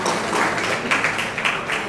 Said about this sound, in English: we need a huge round of applause for actor Mani